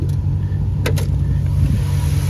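A 1997 Mercury Cougar XR-7 V8 with a new dual exhaust idles steadily, a smooth, even low rumble running throughout with a couple of brief faint higher clicks.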